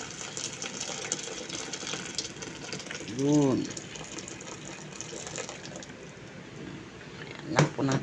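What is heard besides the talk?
pouring hot water into the pan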